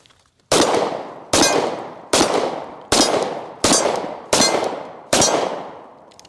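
Seven loud, sharp shots from a 1911 .45 pistol fired at steel targets, evenly spaced about three-quarters of a second apart, each crack trailing off in a brief ringing decay, with no talking.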